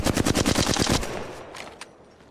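Video game gunfire, a rapid burst of about ten loud automatic shots in the first second, then a fading tail and a couple of faint later shots, with no talk.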